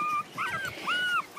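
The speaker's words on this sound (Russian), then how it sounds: "Кто спрашивал Фиму, вот она у меня, счастливая, здоровая, веселая собака." A long-haired chihuahua whimpers in two drawn-out, rising and falling whines, close and fairly quiet, with a short high whine at the start and no talking.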